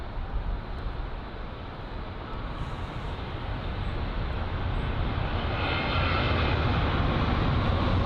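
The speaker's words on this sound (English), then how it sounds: "It's the British Airways A319, and as Chris was saying, arriving from Frankfurt." British Airways Airbus A319 arriving at London Heathrow from Frankfurt, a steady broadband jet roar that swells gradually louder across the whole stretch, with no voices.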